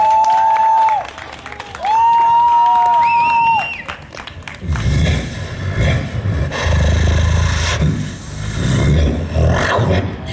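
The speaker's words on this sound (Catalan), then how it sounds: "Un fort aplaudiment, sisplau." Audience applause and cheering at the Bike Show BCN 2010 for a beatbox performer, rising after a few seconds of warbling, whistle-like tones into a loud, sustained crowd roar of clapping that swells and holds.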